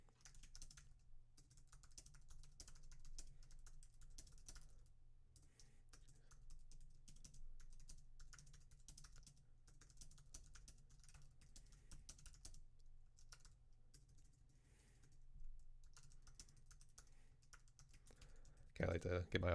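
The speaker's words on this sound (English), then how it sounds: "I'll type something in the message here so you guys can see it." Keystrokes on a computer keyboard during a livestream talk show, heard as faint, scattered clicks in short irregular runs over a low steady hum, with a louder burst at the very end.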